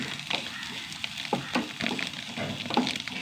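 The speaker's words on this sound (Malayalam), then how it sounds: "ഇനി ചെറുതീയിലിട്ടിട്ട് നന്നായി വഴറ്റിയെടുക്കണം" Ingredients sautéed in oil over a low flame give a soft, steady sizzle with scattered crackles and occasional stirring scrapes, close by and with no talking.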